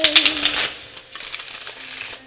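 Tarot cards being shuffled by hand, a quick burst of crisp papery riffling and slapping at the start, then softer rustling handling of the deck, near and alone.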